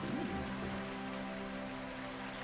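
Rain falling in the video game The Last Campfire, a steady hissing downpour with a soft patter of drops over a low sustained tonal drone, continuous and even, with no voices.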